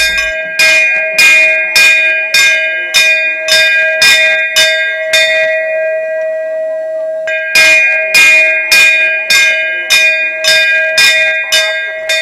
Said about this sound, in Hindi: श्रद्धालुओं द्वारा श्री घंटाकर्ण जी को घंटा ही भेंट किया जाता है